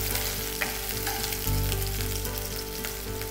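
Chicken pieces seasoned with salt and black pepper fry loudly in a pan, a dense, steady sizzle and crackle with a few sharper pops, close and unaccompanied by speech.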